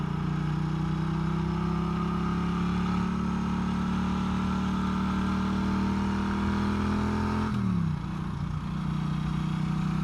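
Norton Commando 961 CR motorcycle being ridden, a loud steady engine drone with a strong low hum, then a drop in pitch near the end as the revs change, with no voices.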